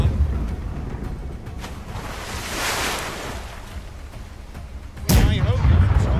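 Cannon fire in the naval battle game Blackwake over a constant wash of ocean waves and wind, with a faint distant report early on and one loud, close blast near the end.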